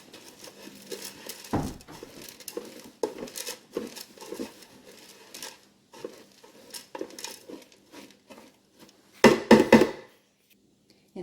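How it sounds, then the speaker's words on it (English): A spoon scrapes and pats through apples, oats and a pinch of salt in a cooking pot, giving sparse, irregular soft stirring knocks with a louder clatter near the end. "I'm just going to kind of stir that around into those apples."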